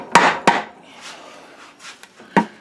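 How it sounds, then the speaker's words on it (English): Rubber dead blow mallet knocking on the aluminum case of a Roper 633 lawn tractor transaxle. Three dull, close thuds come at uneven intervals, with faint scraping and rubbing in between. "your dead blow rubber mallet's probably one of the best ones"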